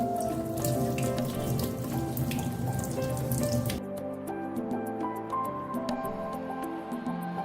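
Arka leaves are rinsed under a running kitchen tap, water splashing steadily and close, then the flow changes to a thinner stream with scattered drips and leaf handling; no talking.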